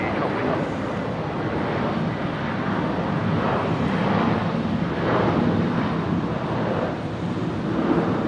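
An Airbus A220 at Brisbane airport produces a steady, loud jet engine roar that swells and wavers across the whole stretch, with wind buffeting the microphone and voices faintly underneath.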